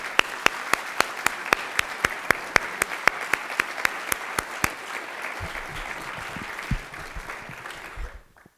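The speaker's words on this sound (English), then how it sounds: "Please join me in another round of applause" Audience applause at an award ceremony, a dense steady clatter of many hands clapping filling the room, with a few sharp claps standing out early and the clapping tapering off toward the end amid faint murmuring.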